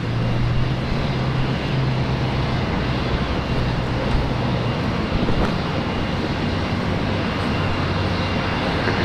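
Korean Air airliner at Brisbane Airport, its engines a steady, continuous roar with a low hum running underneath, holding fairly constant loudness throughout with no talk.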